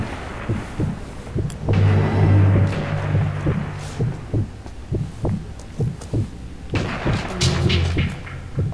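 Muffled, thumping gunfire from the video game Sniper Elite V2 in irregular bursts, with low booming impacts and a steady hum underneath.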